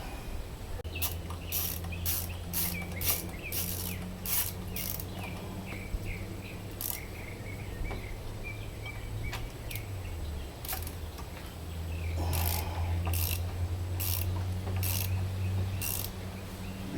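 A ratchet tightens power steering hose fittings on a 2007 Honda Odyssey, giving steady runs of sharp rapid clicks in bursts against a low engine-bay hum and faint background insects.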